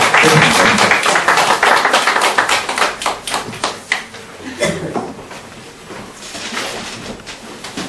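A live audience of parents at an English-education seminar claps to welcome the company head, a dense burst of clapping that thins and becomes patchier partway through before swelling again near the end.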